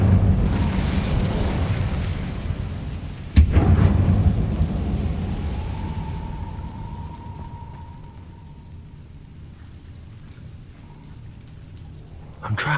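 In Hogwarts Legacy on Xbox Series X, the Incendio fire spell sounds as a dense roaring rush, then a sharp blast that gives way to a long crackling, hissing burn that slowly fades.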